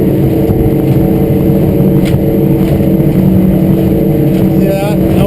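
Loud, steady drone of a 2014 Weldcraft 220 Maverick boat's outboard engine running at high RPM on the water, a continuous close roar with slight rises in pitch.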